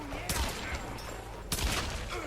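Gunshots ring out in the Tomb Raider video game, two distinct shots about a second apart over a steady background, with someone talking through the clip.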